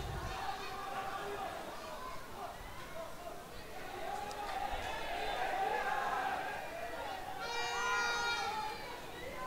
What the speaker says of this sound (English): The crowd is not happy with that decision by the Lions judge giving the throw into St. Peter's College